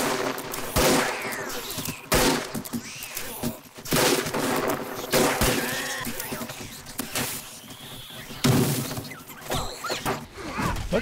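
Shotgun blasts during a 7 Days to Die Alpha 21 zombie horde night, with about six loud, spaced-out booms over a noisy background of game sounds.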